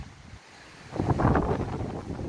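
Strong gusts roar against the microphone on a very windy day, swelling suddenly from a low hush into a loud, rough blast that holds to the end.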